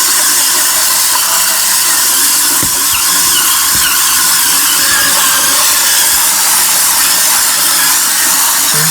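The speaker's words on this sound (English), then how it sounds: "Just let the brush do most of the scrubbing by itself." A cordless spin scrubber brush spins and scrubs a surface, giving a steady, loud, high-pitched whirring hiss that holds for the whole stretch with no talk over it.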